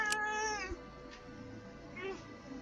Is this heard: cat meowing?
yes